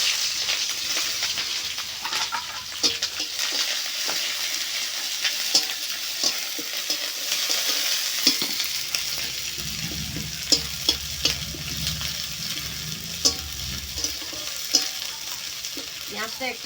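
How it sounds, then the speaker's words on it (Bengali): Onions fry for chowmein in a hot pan with a steady, loud sizzle while a utensil stirs and scrapes them, producing irregular clinks and scrapes throughout. "পেঁয়াজটা একটু ভালো করে ভেজে নিচ্ছি।"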